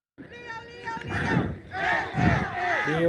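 A large crowd at an Irish rally shouting and chanting together, loud massed voices rising and falling in waves over several seconds.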